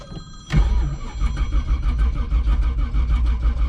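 A 1985 Oldsmobile Cutlass with a brand-new carburetor cranks and catches after a short quiet moment, then runs loud and close with a fast, steady engine rhythm on its raised idle.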